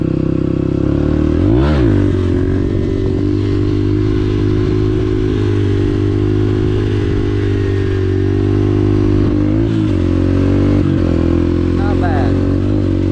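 A dirt bike ridden off-road on its first real ride, its engine droning steadily and loud with occasional clatter and brief revs, while a voice talks over it.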